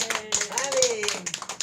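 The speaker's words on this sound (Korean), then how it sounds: "이 땅에 우리 장로님들께 우리 또 격려의 박수 올려드립니다" Church congregation applauding its elders during a Sunday worship service, brief clapping mixed with a voice and tonal sound running throughout.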